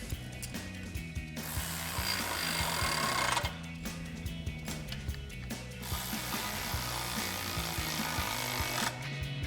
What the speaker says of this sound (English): we can grab our 13mm socket and a 13mm wrench to tighten this down